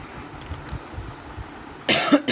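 Several rough coughs burst out near the end, close and loud, after a quiet stretch of low room noise.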